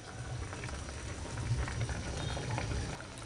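Water boils in a pot for a hilsa fish curry, giving a steady, close bubbling and soft patter with no voices over it.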